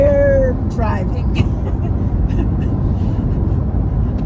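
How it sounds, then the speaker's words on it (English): Steady low engine and road rumble fills the inside of a car driving on a road in Wyoming, constant and close throughout, with a voice briefly heard at the start. "We're driving."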